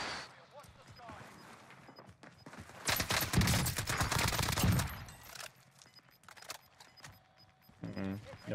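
Sustained gunfire from an EM2 SMG on Rebirth Island in Call of Duty Cold War Warzone, a rapid loud automatic burst of about two seconds that breaks from quieter game ambience, with someone talking before and after.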